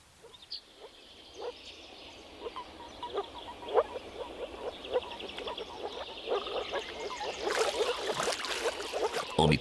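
Moor frogs calling in a marsh of riverside alder and oak swamp woodland in spring, a steady chorus of soft, short bubbling calls repeating in quick succession, rising in density toward the end with a brief louder rustle.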